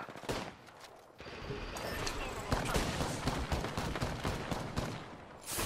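Rapid bursts of gunfire from Apex Legends, played as Bangalore, crackling in dense volleys with sharp individual shots over a steady battle din, fairly close and loud, with a voice calling out over the shooting.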